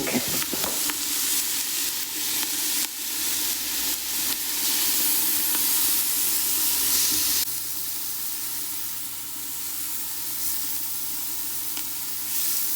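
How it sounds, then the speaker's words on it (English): A pot of gumbo sizzles and hisses steadily while being stirred, with scraping and clinking of the spoon against the pot over continuous frying noise, loud and close throughout. "we're just going to stir this around now and just wait for the stuff to cook down a little bit"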